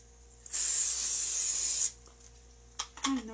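Cooking oil sprayed from a can into a pan in a home kitchen, one steady hissing burst lasting just over a second, followed by a couple of faint clicks and a short scrape.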